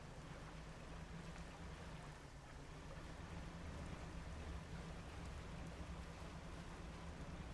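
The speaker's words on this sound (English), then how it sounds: "Seems like it rains a lot in this game." Rain falling in the fishing game Dredge, a soft, even hiss of steady downpour over a low, constant drone, quiet and unbroken throughout.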